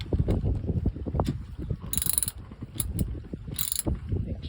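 Wrench clicking as it tightens bolts on a jet ski being repaired for loss of power, a quick close ratcheting rattle repeating in short bursts alone.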